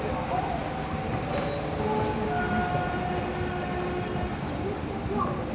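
A Taiwan MRT metro train rumbles and rattles steadily on its track, with dense wheel and carriage noise, and voices talking faintly underneath.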